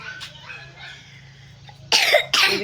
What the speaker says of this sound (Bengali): কাশি হয়েছে